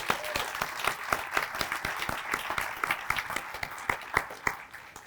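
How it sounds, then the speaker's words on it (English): Steady applause from an audience at a senior wellness center groundbreaking ceremony, many hands clapping densely at moderate distance, with a few sharper claps standing out and no talk over it. "So that deserves a round of applause."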